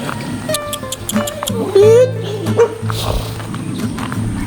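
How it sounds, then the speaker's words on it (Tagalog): Dogs at a campsite in Calamba, Laguna, giving short whines and yelps close by, mixed with people talking and general outdoor commotion. "Yung mga aso sila dito guys ha."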